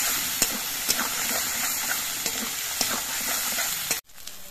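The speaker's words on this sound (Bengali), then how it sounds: "এবার মশলাটা কিছুক্ষণ কষিয়ে নিতে হবে।" Turmeric and spice masala sautéing in a pan for a pangas fish curry: a steady close hiss and sizzle with regular spatula taps and scrapes, cutting off abruptly near the end.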